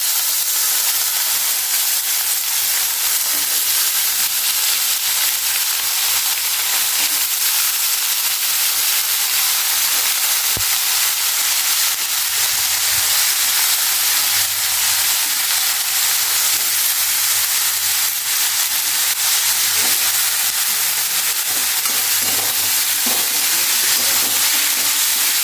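Potatoes frying in a pan for a homestyle matar paneer curry make a loud, steady sizzle and hiss that holds evenly from start to finish, with no talking.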